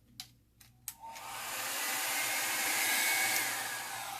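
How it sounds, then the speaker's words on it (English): A few sharp clicks, then a hair dryer on its low setting starts up and blows steadily with a loud, breathy whoosh, drying alcohol ink on a Christmas ornament, close by and without talk. "And I'll use my dryer"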